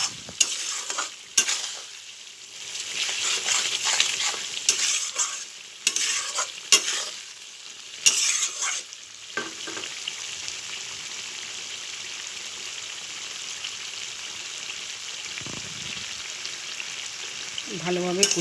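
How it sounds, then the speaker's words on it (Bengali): Slit green chillies and spices fry with a steady sizzle in a pan while a spatula stirs and scrapes at close range, and the frying hiss carries on alone for long stretches. "ভালোভাবে কষিয়ে নিই যতক্ষণ না কাঁচা গন্ধটা যাচ্ছে মশলার"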